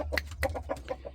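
Chickens in a coop give a quick run of short, soft clucks, about half a dozen closely spaced calls over a low background hum.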